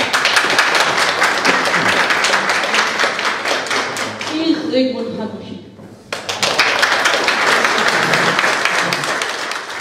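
Studio audience claps for a guest on a Silesian television entertainment show, a dense burst of applause running under and between talk, dipping briefly near the middle before resuming.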